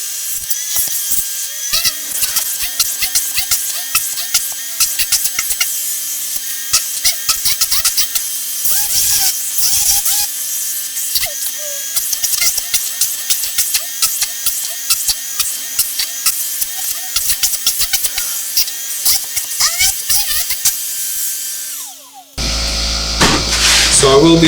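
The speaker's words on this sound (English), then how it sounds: "I'll take the sand out of here with the Tornador Max Velocity" A Tornador Max Velocity air tool blasting sand out of a car interior gives a harsh, continuous hissing roar with rapid crackling pulses, loud and close, before cutting off near the end into a different lower rumble.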